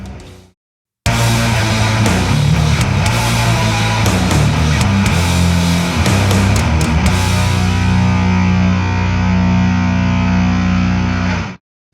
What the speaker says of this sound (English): this is probably the most flexible HM2 style pedal money can buy at the moment